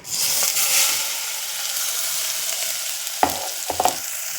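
Ground spice paste hits hot oil with a loud, hissing sizzle, then settles into a steady fry. Two sharp clinks of a spoon or pan sound near the end.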